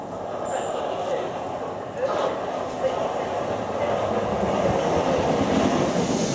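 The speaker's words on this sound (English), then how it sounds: "Here comes my Thameslink train" A Thameslink Class 319 electric train pulls into a suburban station, its steady rumble and rail noise building louder and closer over several seconds.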